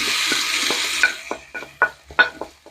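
Tomatoes, green chilies and curry leaves hit frying onions with a burst of hissing sizzle that fades, followed by a run of rhythmic stirring scrapes and clacks in a pan of lamb dhal gosht.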